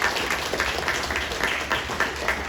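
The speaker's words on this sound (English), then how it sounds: "give a round of applause to a wonderful tech department" Steady applause from an audience at a comics event, dense overlapping clapping at a constant loudness throughout, with no talking.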